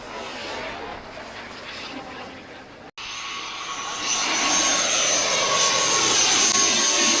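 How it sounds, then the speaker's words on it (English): Low-flying airplane roaring loudly close overhead at Skiathos Airport, a steady broadband jet rumble that briefly cuts out, then swells louder and stays strong as the aircraft passes near. "offers thrilling plane spotting opportunities with close-up views of low-flying aircraft, especially during the busy summer months"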